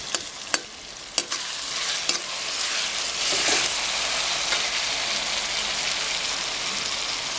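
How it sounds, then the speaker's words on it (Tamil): Tomatoes for a South Indian mutton curry fry in a pan while being mashed and stirred: a few sharp taps of the spoon, then a steady, loud sizzle that continues throughout. "தக்காளியை கொஞ்சம் அப்படி உடச்சி விட்டுக்கலாம்."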